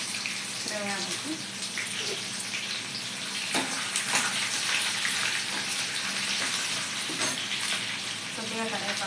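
Garlic and curry leaves sizzle and crackle steadily in a hot pan, a dense, continuous frying hiss with a voice talking over it.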